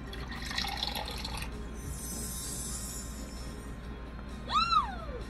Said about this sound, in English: Just plant the seed, give it some water, and voila, the corn is born.